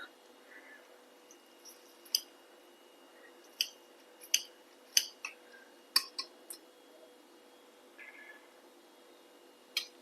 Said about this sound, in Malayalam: നമുക്കിനി ഒരു നാരങ്ങയുടെ നീര് ഇതിൽ ചേർക്കാം കേട്ടോ.